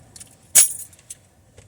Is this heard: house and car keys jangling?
yes